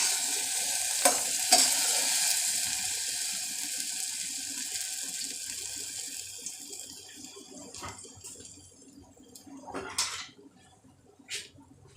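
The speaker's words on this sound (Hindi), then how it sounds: "अब क्या करना है कि इसको डालेंगे हम ये गुलाब जामुनों को" Warm sugar syrup is poured over suji gulab jamuns, giving a steady, soft liquid hiss that slowly thins out. A few light clinks of the pan and utensils come near the end.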